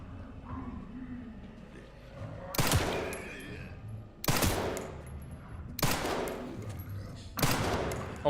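Gunshots in Resident Evil Requiem, four loud, separate shots spaced about a second and a half apart, each with a short echoing tail over a low game background.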